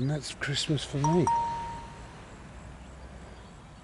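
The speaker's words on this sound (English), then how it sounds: "That's my alarm telling me that I need to be here." A person talks in a memorial park cemetery, then a single bright phone alarm chime rings out and fades away, with no further tones.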